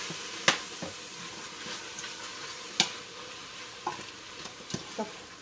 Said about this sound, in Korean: 볶아 줄게요.